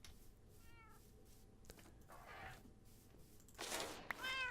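Wither cats in a blocky survival video game meow in short, rising and falling cries, several in a row, mixed with game sound effects, a thunk and a burst of hissy noise.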